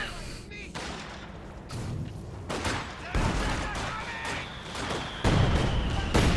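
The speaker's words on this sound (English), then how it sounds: "Couple nasty shots there on that Grenadier squad." Gunfire crackles through a battle in the Company of Heroes 2 video game, a 1v1 match between Soviet and German forces. Bursts and sharp shots come at irregular intervals, close and loud, under some background voice chatter.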